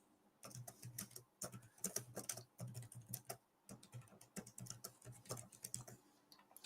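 Typing on the Boox Note Air5 C keyboard cover, a steady run of close, crisp key clicks in quick bursts with brief pauses between them.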